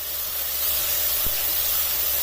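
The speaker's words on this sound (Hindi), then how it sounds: "अब इस कीमे को 2 से 3 मिनट तक इसमें फ्राई होने देना" Minced meat (keema) fries in a pan with a steady, close hiss and sizzle throughout, broken only by a single soft tap near the middle.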